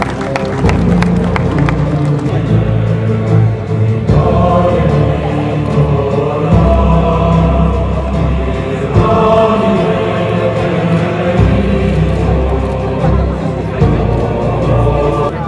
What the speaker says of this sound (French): Sous nos applaudissements, s'il vous plaît.